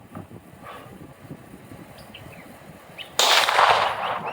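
A single Tisas 1911 DS Duty pistol shot fired outdoors at a range, one sharp loud burst near the end after quiet background noise.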